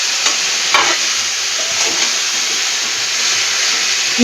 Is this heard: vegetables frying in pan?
yes